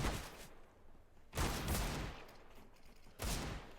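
Counter-Strike match gunfire: three loud bursts of rapid shots a couple of seconds apart, with a quieter crackle of shooting in between.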